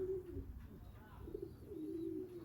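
Pigeons coo softly and repeatedly inside a pigeon loft, a low murmuring warble that runs steadily throughout with no talk over it.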